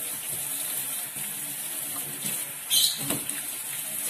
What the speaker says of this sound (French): On va mettre un petit peu d'eau pour ce côté-là.